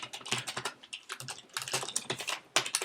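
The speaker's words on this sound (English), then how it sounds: "typing a bit fast there" Rapid, uneven typing on a computer keyboard at a desk, dense bursts of key clicks with brief pauses, close and fairly loud, no voices.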